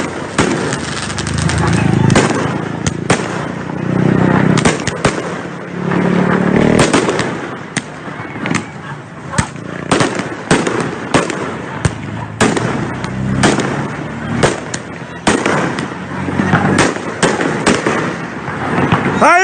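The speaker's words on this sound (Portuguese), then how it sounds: "Olha o ângulo dos fogos!" Fireworks exploding at a large crowd gathering in Brasília, with dense, loud bursts and crackling pops in rapid irregular volleys, while people shout and talk over them.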